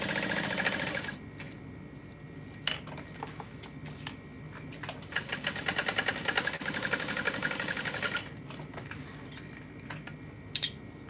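Sewing machine basting across the width of a fabric lining panel, running in quiet bursts of rapid stitching chatter with pauses and small clicks between runs.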